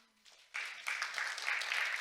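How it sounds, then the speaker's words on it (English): An audience at a science and technology forum in Seoul breaks into applause, building quickly from a faint start into dense, steady clapping that fills the hall. "Please give Dr. Park a big round of applause."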